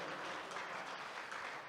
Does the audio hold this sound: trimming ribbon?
no